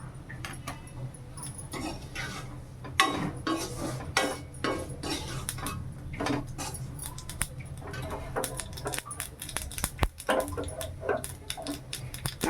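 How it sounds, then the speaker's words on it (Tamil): Mustard seeds spluttering in hot oil for tempering: dense, irregular crackling and popping bursts with sharp snaps, close by and fairly quiet, with no voices. "கடுகு நல்லா பொரியட்டும்"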